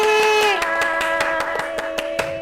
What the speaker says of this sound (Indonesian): Kita tepuk tangan dulu dong untuk Kak Gaetri dan Kak Reni.